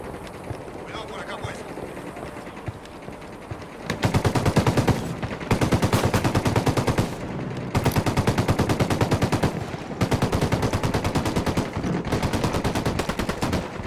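Submachine gun fire in the video game Ghost Recon Wildlands: loud rapid bursts of automatic fire come in several long volleys with brief gaps, over a steady background of game ambience.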